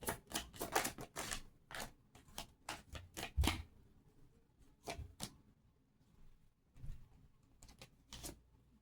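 Quiet, close card shuffling: rapid bursts of riffling clicks in short flurries, separated by brief pauses.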